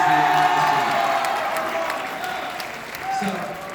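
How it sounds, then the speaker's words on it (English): Enthusiastic audience applause at a high school marching band event, a steady wash of clapping with some cheering that holds fairly loud for several seconds, dipping briefly before swelling again near the end. "So as you can tell by the enthusiastic applause"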